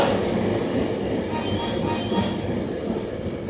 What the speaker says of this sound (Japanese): こちらに到着の電車は各駅停車京都河原町駅です。